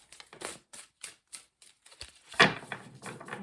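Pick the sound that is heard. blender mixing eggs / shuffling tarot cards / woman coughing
shuffling tarot cards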